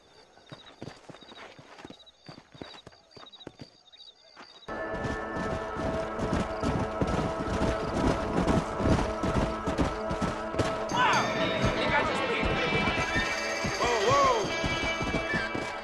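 In Red Dead Redemption, horse hooves clip-clop in sparse beats at first, then a dense, loud galloping rush of many hooves takes over, with whinnies and shouts layered on top.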